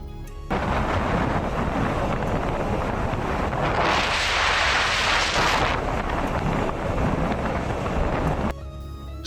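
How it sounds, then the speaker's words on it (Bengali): Strong sea wind on the Marine Drive coast at Cox's Bazar buffets the microphone with loud, rumbling gusts that swell in the middle and ease off near the end, with no talking. "সমুদ্রের ঢেউ থেকে বয়ে আসা বাতাস যখন আমাদের শরীরে লাগছে"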